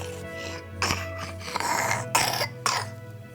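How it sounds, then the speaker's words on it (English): A young boy with ongoing breathing problems and severe asthma after bushfire smoke coughs in several short, harsh bursts close to the mic, with a throat-clearing quality and brief pauses between. "How many times a day would he cough like that?"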